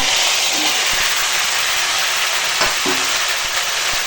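Pumpkin, potato and chickpeas fry in oil with bay leaf, dried chilli and five-spice tempering, giving a loud, continuous close-up sizzle broken by scattered scrapes and knocks of a spoon in the pan.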